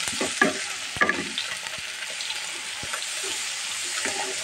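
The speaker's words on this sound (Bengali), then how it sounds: "সামান্য একটু পানি দিয়ে কষিয়ে নিলাম।" Spice paste for taki fish dopiaza cooking down in a pan with a splash of water, a close bubbling sizzle with a few sharp taps of a spatula early on.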